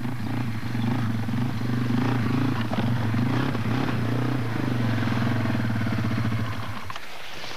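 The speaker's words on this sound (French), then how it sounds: "c'est la dernière nouveauté Yamaha, moto tout-terrain. C'est le TW200." A Yamaha TW200 off-road motorcycle rides at a 1986 4x4 show in Val d'Isère, its engine giving a loud, steady throbbing drone that wavers in pitch, then fades and falls away near the end.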